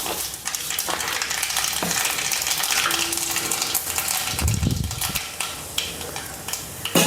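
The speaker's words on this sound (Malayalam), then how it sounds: "എണ്ണ കാഞ്ഞിട്ടുണ്ട്. നമുക്ക് കടുക് പൊട്ടിക്കാം." Mustard seeds sputter and crackle in hot oil in a pan while cooking a Kerala salted mango milk curry, giving a dense, continuous sizzle with scattered sharp pops and occasional light clinks.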